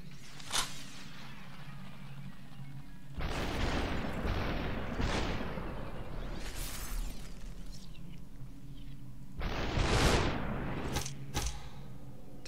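Several sharp gunshot bursts from the video game Superhot, with one isolated crack early and then louder clustered shots and impacts, set against a steady low game drone.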